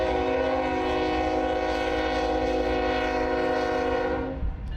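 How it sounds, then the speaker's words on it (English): A train rolling through a southern Oklahoma town sounds a long, steady multi-tone horn over engine rumble, loud and sustained before cutting off near the end, with no voices. "The trains are still running"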